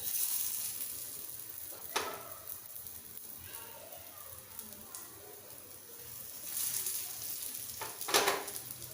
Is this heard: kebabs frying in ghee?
yes